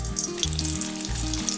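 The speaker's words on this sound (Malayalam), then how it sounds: "ഇതിലേക്ക് ഞാൻ ആദ്യമേ 2-3 കൊണ്ടാട്ടമുളക് വറുത്തെടുക്കണേണ്" Two or three dried kondattam chillies fry in hot coconut oil, a close, bright sizzle and crackle that holds steady with no speech.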